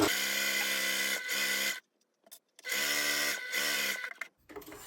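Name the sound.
sewing machine stitching, back stitch at beginning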